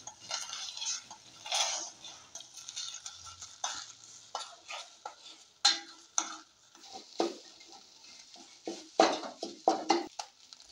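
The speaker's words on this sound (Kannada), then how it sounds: "ಹಾಕ್ಬಿಟ್ಟು ಚೆನ್ನಾಗಿ ಮಿಕ್ಸ್ ಮಾಡೋಣ. ಮೊಟ್ಟೆ ಎಲ್ಲ ನಮಗೆ ಉದುರುದ್ರ ರೀತಿ ಬರಬೇಕು." Eggs are stirred in a pan for egg fried rice, with irregular scraping clinks of a spatula against metal over a faint sizzle, bursts of quick strokes separated by brief pauses, close and alone.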